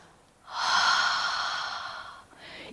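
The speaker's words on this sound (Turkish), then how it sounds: "Derin bir nefes al önce burnundan. Ağzını kocaman aç boşalt." A deep breath drawn in through the nose, then a long audible exhale out through a wide-open mouth, with a short second breath starting at the end, during a children's yoga session.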